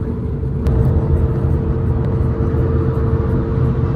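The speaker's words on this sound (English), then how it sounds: "In the Uber, taking the ride to Harpers Ferry." Steady low engine rumble and road noise fill the cabin during an Uber car ride heading to Harpers Ferry, a continuous droning hum with no talking.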